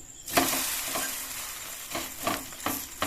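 Chicken atta paratha frying in a pan, a steady close sizzle with scraping stir sounds and a louder burst as the flatbread is flipped over.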